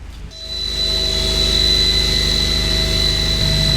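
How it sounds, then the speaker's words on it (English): Aeration blowers at a wastewater treatment plant run inside a blower building, a loud steady mechanical roar with a constant high whine and low hum, swelling in at the start and then holding level, no talk. "What you hear running behind you is the blowers that are causing the air to go in the aeration basin."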